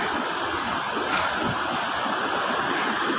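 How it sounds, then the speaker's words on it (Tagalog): Baluarte Falls roars in a steady, dense rush of falling water heard from the top of the waterfall, constant and fairly loud with no voices. "dito na tayo sa tuktok ng waterfalls"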